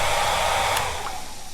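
A hair dryer in the video game Frosty Nights blows with a steady, loud whooshing roar that fades and weakens partway through, as if its batteries were running low, with a brief click near the middle.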